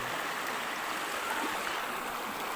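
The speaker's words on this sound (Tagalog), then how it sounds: "hindi naman siya malaking river hindi naman siya malaking ilog" A small, clear river flows steadily with a soft, even rush of water, unbroken and fairly close for the whole stretch, with no voices over it.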